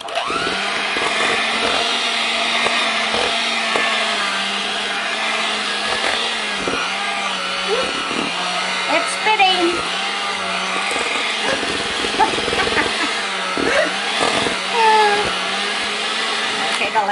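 An electric mixer churns chocolate chip cookie dough as flour is worked in, a loud steady motor whine with rattling and straining that holds throughout while a voice talks over it.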